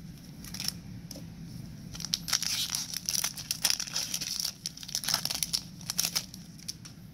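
Magic: The Gathering card packs being torn open and their wrappers crinkled, a steady run of close, sharp crackling and ripping over several seconds against a low room rumble, with no voices.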